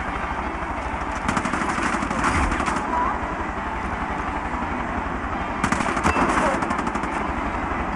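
Loud automatic gunfire from Far Cry 5 comes in two rapid bursts, one early and one late, over a constant rumbling engine-like drone with talk mixed in.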